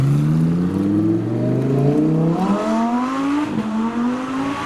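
A modified Nissan Skyline R33 fitted with a downpipe revs hard at a car meet, the engine note climbing and falling in loud, rising sweeps with a brief dip between pulls.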